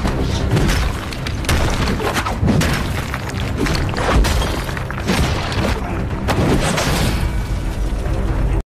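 Gunfire in a Korean action film: loud, continuous barrages of sharp bangs and booming bursts packed tightly together, with no pauses for about nine seconds.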